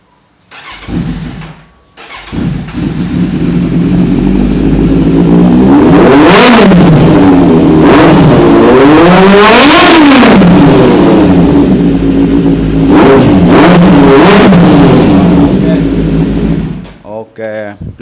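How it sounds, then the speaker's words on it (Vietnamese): A motorcycle exhaust, shown among used big bikes such as the Kawasaki Z900, CBR650R and Ninja 650, revs loudly and repeatedly in rising and falling sweeps, close by, after a brief start, with no talk over it. "Cho anh em nghe tiếng bô các em."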